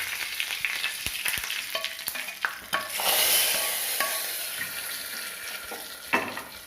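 Curry leaves hit hot oil with popped mustard seeds and dried red chillies for kadala curry, producing a bright burst of sizzling that settles into a steady crackle with scattered pops and light stirring clicks.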